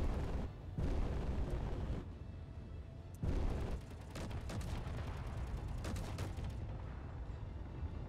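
Rumbling turret fire and heavy booms from the Space Engineers video game as shots strike the player's own ship, a dense continuous roar with several sharper impacts and crackling bursts throughout.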